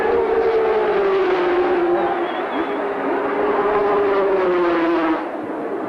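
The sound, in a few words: 350cc motorcycles racing in the 1983 Indian Grand Prix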